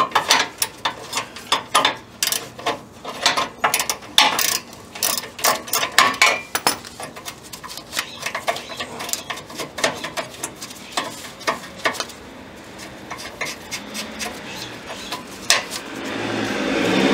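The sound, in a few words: removing exhaust clamp on 1962 Jaguar E-Type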